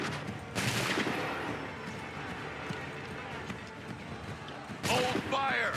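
Musket volleys in Assassin's Creed III's Battle of Lexington and Concord crack out as two broad bursts several seconds apart over battlefield din, with shouting voices near the end.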